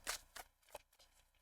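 Tarot cards are shuffled by hand in a few quick, soft, papery bursts, faint and close, with short gaps between them.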